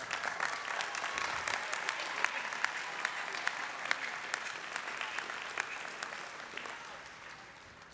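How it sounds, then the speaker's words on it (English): Sustained applause from friends and family honoring graduating students at a college convocation ceremony, dense clapping filling the hall steadily for several seconds before easing slightly toward the end. "Now you may turn and receive the applause of your friends and family."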